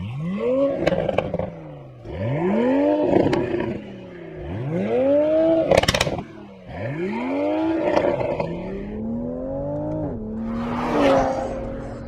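A Toyota Supra's engine revs in a series of sharp, rising sweeps, each climbing and then dropping away, with a final longer, steadier pull. It is loud and close, with no talking.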